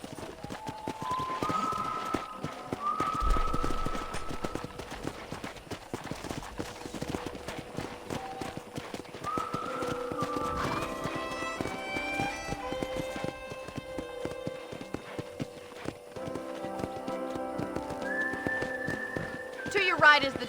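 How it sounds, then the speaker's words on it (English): A horse is ridden in Red Dead Redemption, its hooves clip-clopping at a steady trot under musical score, with a voice speaking over it. "I picked out a fine horse for you."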